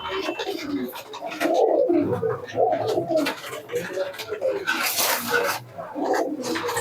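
Pigeons coo steadily and overlap one another at a pigeon shop. The soft, throaty calls are close and continuous over a busy indoor murmur, with what may be a dog barking briefly.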